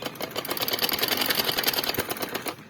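A sewing machine runs fast stitching a belt band onto trousers, a rapid, even mechanical chatter of needle strokes heard up close and alone for a few seconds.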